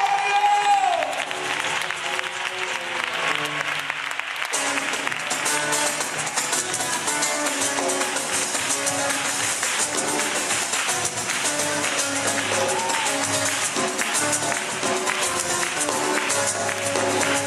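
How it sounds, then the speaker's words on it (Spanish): Applause and cheering from the audience at a Seville dance and choir performance, a steady, dense wash of clapping that runs the full length and is loud and close, with music-like tones woven underneath. "¡Fuerte la aplauso para"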